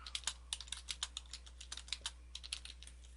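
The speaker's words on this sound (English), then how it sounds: "Type some stuff here." Brisk typing on a computer keyboard, a rapid, uneven run of close, crisp key clicks heard alone over a faint steady hum.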